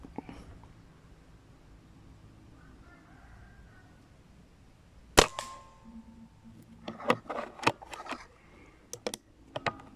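An Air Arms air rifle is fired once during a scope test, giving a single sharp crack midway. Later, scattered clicks and faint background sounds follow.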